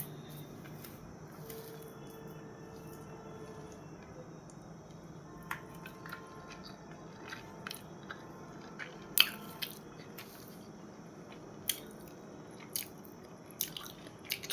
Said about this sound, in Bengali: ছোলার শাক দিয়ে খাচ্ছি একটু।